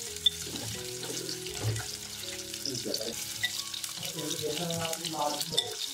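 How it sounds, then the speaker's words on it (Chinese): Ginger and garlic stir-fry in hot cooking oil in a clay pot, a soft sizzle with light stirring under a voice speaking throughout. "拌炒出香味。"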